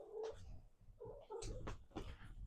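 A cat meows and caterwauls indoors in several loud, close, drawn-out cries with short gaps between them.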